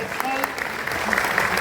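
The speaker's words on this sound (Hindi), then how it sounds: "जोरदार ताली होनी चाहिए।" An audience at a bodybuilding championship in Chhapra, Saran, claps loudly in a dense, continuous burst of applause, with a voice on a loudspeaker faintly underneath.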